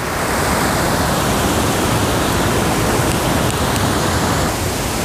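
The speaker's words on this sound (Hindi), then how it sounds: "ये ऊपर से देखिए दोस्तों कितना सुंदर सा नज़ारा, देखिए ऊपर वाटरफॉल देखिए।" Saidhara waterfall at a picnic spot in Odisha roars as a loud, steady broadband rush of falling water, continuous and close with no pauses.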